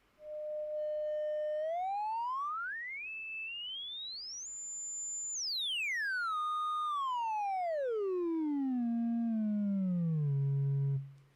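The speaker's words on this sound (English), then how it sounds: "So I've got my synthesizer, I'm going to play." A synthesizer sustains a pure tone, sweeps smoothly up to a high pitch, holds there, then slides back down well below where it began, all in one continuous, steady-volume glide.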